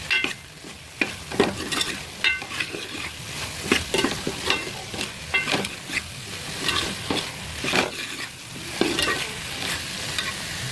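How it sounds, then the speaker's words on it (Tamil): Brinjal with chilli powder is stirred in hot oil in a pan: scraping spoon strokes come in irregular bursts over a steady close sizzle, with no voices. "நல்லா கிண்டி விட்டுக்கலாம்."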